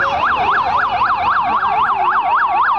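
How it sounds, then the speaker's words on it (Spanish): Ambulance siren at a Fiat 600 Standard car race, a loud, close, rapid wailing sweep that rises and falls steadily throughout. "Ahí va la ambulancia."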